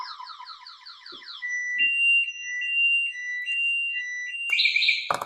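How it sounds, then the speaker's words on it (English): Anti-theft alarm on an Emmo Zone II motorcycle-style e-bike, loud and close: a rapid warbling siren gives way to steady alternating electronic tones, with a few faint clicks, ending in a sharp burst. "If the bike's moved, the alarm sounds."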